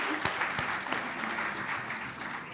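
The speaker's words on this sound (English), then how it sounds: "Please give her another round of applause." An audience at a Beijing +20 reception claps, a brief, steady burst of many hands with a few sharper individual claps standing out near the start.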